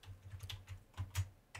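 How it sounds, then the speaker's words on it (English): Quiet keyboard typing done with one hand, a sparse, uneven run of light clicks with a couple of firmer taps near the end; no one speaks. "I'm typing with one hand"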